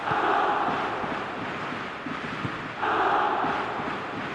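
Video game stadium crowd from eFootball PES 2020 roars steadily throughout, a broad cheering wash that dips briefly and swells again near the end, with no commentary over it.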